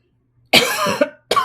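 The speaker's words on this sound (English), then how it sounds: "I might have to pause this off and on to cough because I got hit with a head cold" A single harsh cough from a person with a head cold bursts out, followed a moment later by the start of another, close and loud against a quiet background.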